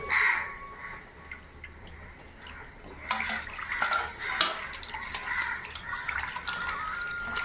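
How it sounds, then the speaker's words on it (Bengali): Shankar (stingray) fish being rinsed by hand in a bowl of water, with soft dripping and sloshing that grows busier and louder midway, splashes and gentle clinks of the vessel recurring near the mic. "আর একবার ধুচ্ছি, কারণ এই মাছটা 2-3 বার ধুতে হয়"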